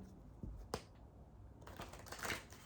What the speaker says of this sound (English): so let me shuffle a little bit more.